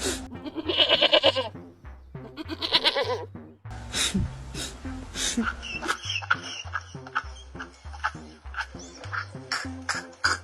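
A goat bleats repeatedly in loud, wavering calls, with strained nasal cries recurring through the stretch and short pauses between them.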